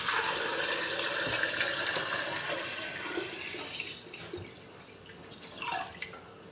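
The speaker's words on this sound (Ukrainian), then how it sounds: "Вкидаю туди картоплю, вливаю воду." Water poured from a tap into a 4-litre saucepan holding potatoes, a steady close splashing and gurgling fill that gradually softens as the pot fills, with no talk.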